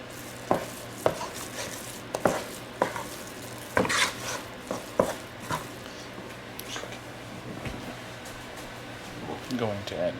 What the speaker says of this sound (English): we're really just going to mix this up and let everything come together